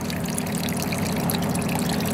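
Water dribbles steadily out of a gasoline tank in the back of a trailer, a continuous close trickle and pour running alone for the whole stretch.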